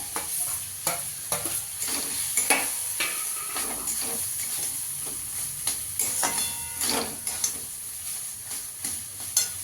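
A potato and paneer stuffing frying in a pan, with constant close sizzling and hissing broken by repeated spoon scrapes and stirring knocks, and no voices.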